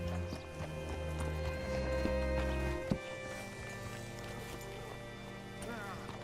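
Horse hooves clip-clop on a town street in the video game Red Dead Redemption 2, a moderate rhythmic plodding over a layered ambient background with a sharp knock partway through.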